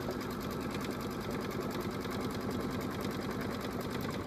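A sewing machine runs steadily, stitching a quarter-inch seam on a fabric table runner, its fast even needle rhythm close and loud throughout with no talk.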